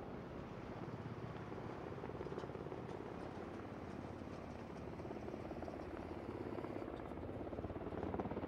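Mi-35M and Ka-52 army aviation helicopters fly over a military vehicle column at the Army 2021 forum in Russia, heard as a faint, distant, steady rotor drone that holds throughout with no break.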